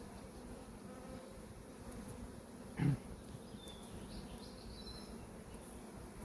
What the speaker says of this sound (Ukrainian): Ось така кількість бджіл тут.